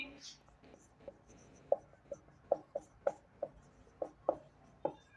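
Pen strokes write a math definition on paper or board, a run of small scratchy taps and strokes about every half second, close but quiet, with faint background voice.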